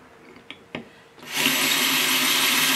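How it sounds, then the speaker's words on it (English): Two light taps, then a power drill whirs up and runs steadily at high speed, loud and close, boring a hole into an oyster shell. "I'm using a drill bit to drill a hole in the oyster shell"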